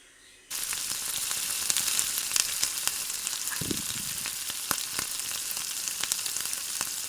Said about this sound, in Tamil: அதில் எண்ணெய் ஊற்றி கடுகு போட்டுக்கலாம்